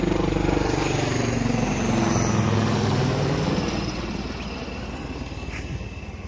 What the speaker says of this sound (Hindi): और ये देखिए हेलीकॉप्टर